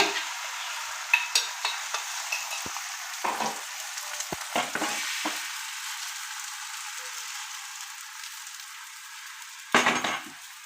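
Beaten egg sizzles in a hot pan as an omelette cooks, a steady close frying hiss running throughout with occasional sharper crackles and utensil clinks.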